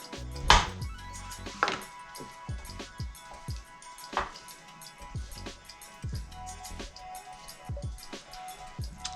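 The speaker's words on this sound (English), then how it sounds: "And I'm just gonna break this up a bit as it cooks." Sausage being broken up with a utensil as it cooks in a pan, a scatter of irregular scraping knocks and taps against the pan, close and moderately loud over a quiet background.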